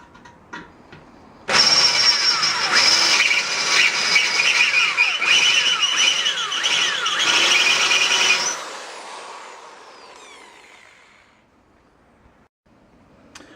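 A power drill whirs up abruptly and grinds steadily into the metal of a Weber grill vent for several seconds, pitch wavering as it bites, then winds down into quiet.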